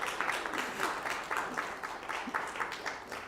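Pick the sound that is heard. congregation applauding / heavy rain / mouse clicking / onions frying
congregation applauding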